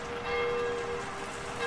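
Steady rain as a dense wash of hiss heard throughout, with a faint tonal ring like a distant bell above it and no talking.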